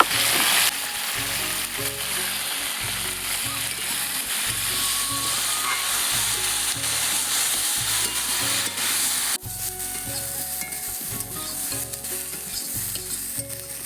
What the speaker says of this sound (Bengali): এদিকে আলুটা ভাজা হচ্ছে